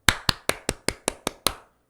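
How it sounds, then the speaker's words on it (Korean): A single person claps their hands eight times in an even, brisk rhythm. The claps are crisp, close and sharp, with silence between them, and the sound stops after the eighth clap. "박수 한번 칠게요."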